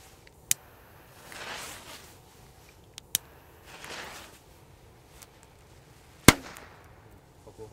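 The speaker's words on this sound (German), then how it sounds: "der Kometknaller Schweizer Kracher." Komet firecrackers, Swiss bangers, go off as three sharp, loud cracks spread apart, separated by soft rustling and a faint hiss.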